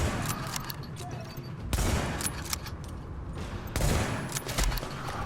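Sustained automatic assault rifle fire in the shooter game Tom Clancy's The Division, a continuous rattling barrage with a heavier surge of bursts about midway and again near the end, loud and close with no talking.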